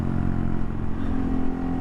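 Honda Monkey motorcycle ridden along backroads, its small engine droning steadily up close with constant mechanical clatter and no pauses.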